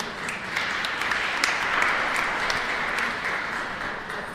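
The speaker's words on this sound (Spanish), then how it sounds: "Un aplauso para Jesús." A church congregation at a Mass at the San Miguel Arcángel parish in Laguna Grande breaks into sustained, dense applause that stays fairly even in loudness throughout, with no voices above it.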